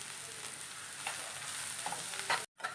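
Garlic and curry leaves frying in hot oil for a Kerala koorka upperi, a steady close sizzle with occasional stirring clinks before a brief drop to silence.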